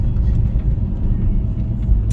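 Small car driving along with a quiet drivetrain while the driver shifts gears, a steady low road rumble and engine hum close up, no talk.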